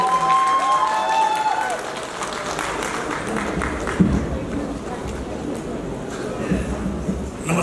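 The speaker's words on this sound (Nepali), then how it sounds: "उहाँलाई जोरदार तालीको साथ स्वागत।" An audience claps to welcome a speaker onto the stage at a formal function, a sustained burst of applause with crowd murmur that gradually thins out.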